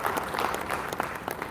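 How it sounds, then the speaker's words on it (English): Audience applause at an AI and analytics summit awards event, a steady wash of many hands clapping, moderately loud and continuous with no voices over it. "I want you to give yourself a round of applause."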